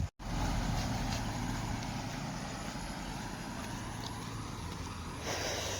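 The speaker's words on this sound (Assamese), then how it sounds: "সেইবোৰ গাড়ী যাই আছে" Traffic on a road at dusk after rain: a steady, distant rumble of car and truck engines, fairly quiet and continuous, with no voices.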